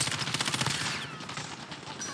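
Rapid automatic gunfire in the Call of Duty Warzone video game, a quick burst of closely spaced shots followed by continued firing, loud and close.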